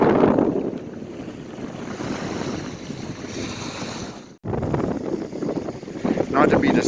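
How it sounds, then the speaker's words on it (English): Strong wind from Hurricane Henri on a beach, roaring and buffeting the microphone in uneven gusts over crashing surf, loud and constant apart from one brief drop near the middle. "the wind's definitely picking up"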